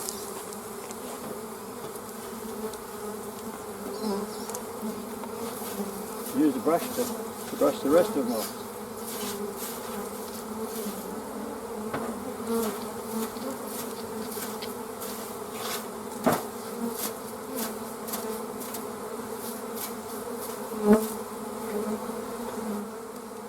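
A steady, dense hum of many honey bees buzzing close by as they are shaken off hive supers, with a person speaking briefly over the swarm and occasional soft bumps.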